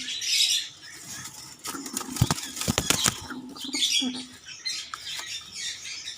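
Bursts of rapid wing flapping and scuffling from a pigeon fighting against a person's hand close by, with a few short squawks and pauses between the flurries.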